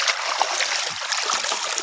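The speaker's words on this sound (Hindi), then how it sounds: "पानी गजब का दे रहा है, और इतना गर्म पानी है कि कहने की कोई बात नहीं है।" Water gushing from an irrigation pump into a wheat field, a steady loud rushing and splashing flow heard up close with no talk over it.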